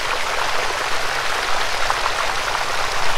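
Water rushing through irrigation hoses being flushed at a large vegetable farm, a loud, dense and continuous hiss and spatter that stays steady and close throughout.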